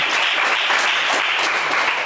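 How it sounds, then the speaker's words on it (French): A studio audience on the French game show Le Coffre Magic applauds, a dense, even wash of clapping that holds steady throughout. "on vous applaudit très fort"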